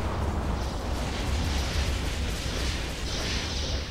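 Weapons fire and explosions aimed at enemy staff weapon turrets in Stargate: The Pegasus Chronicles, a dense, continuous roar of booming blasts and low rumble that fills the whole stretch without pause.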